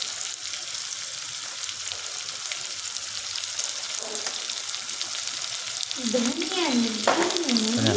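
Cumin seeds crackle and sizzle in hot oil with turmeric and salt in the pan, a steady close frying hiss that swells louder near the end with added bubbling and stirring.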